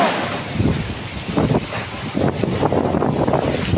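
Strong gusting wind from a storm buffets the microphone in rough, uneven bursts, with a low roar and no clear voices.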